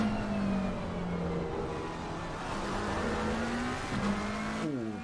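A Porsche race car engine in a racing video game at Laguna Seca at dusk, a steady, loud, buzzing drone that rises and falls in pitch, with a quick downshift near the end.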